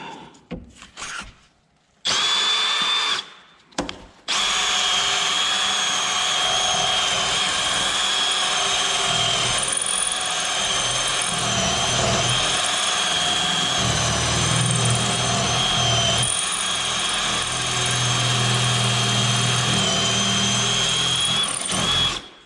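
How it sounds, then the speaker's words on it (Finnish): A loud power drill whines steadily for a long stretch, grinding through a steel rivet, after a few short starts and stops at the beginning. "Tarvitsee porata meillä tämä yksi niitti tästä pois."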